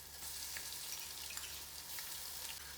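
Ginger garlic paste frying with onions in a pan for mutton pulao, a faint, steady sizzle with soft crackles running quietly throughout.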